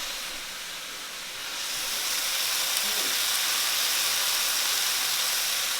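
Garlic and scallions sizzle in a hot pan for a tofu stir-fry, a broad steady hiss that swells louder partway through and then holds, close and continuous with no voices.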